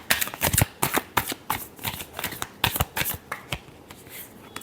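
Tarot cards being shuffled up close in rapid, crisp riffling bursts, repeated in a steady rhythm of short flicks and snaps with no talking.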